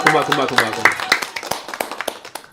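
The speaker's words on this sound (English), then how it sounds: "Round of applause." A small group claps for guests on a beer podcast, a loose run of sharp, close hand claps thinning out over a couple of seconds while voices talk over them.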